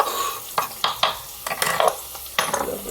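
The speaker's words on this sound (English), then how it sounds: "now that my onion is starting to saute" Chopped onion sautés in a hot pan, a steady sizzle broken by several sharp scraping stirs at irregular moments, close and fairly quiet, with no talking.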